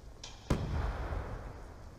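A frag grenade goes off in a search-and-destroy video game match: one sharp, loud blast followed by a low rumbling tail that fades slowly over the next second and a half.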